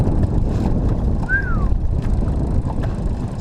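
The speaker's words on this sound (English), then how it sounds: "Windy." Steady wind buffeting outdoors, a low rushing roar over the whole stretch with a single faint bird-like chirp midway.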